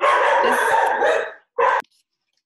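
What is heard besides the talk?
dogs barking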